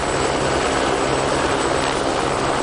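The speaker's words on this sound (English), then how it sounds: "The transport in question is my private helicopter." Private helicopter engine in a video game, a loud, continuous, dense rotor and turbine roar with steady low throb, no talking.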